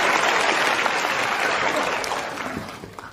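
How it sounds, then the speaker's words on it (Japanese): Applause from a live comedy audience at the close of a manzai stand-up routine, a dense, steady clapping that fills the whole stretch and tapers slightly toward the end. "もうええわと思っている方拍手"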